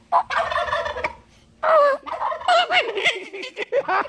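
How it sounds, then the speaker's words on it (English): Wild turkeys on the Big Island of Hawaii gobble loudly and close, two strong rattling gobble bursts with a brief pause between, the second overlapping further calls. "They're gobbling hard on the Big Island."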